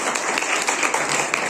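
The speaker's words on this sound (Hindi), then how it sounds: "अच्छा लगेगा कि आप लोग सब तालियां बजा करके" An audience at a school science week event claps to welcome student participants, a brief burst of steady, dense clapping, close and fairly loud.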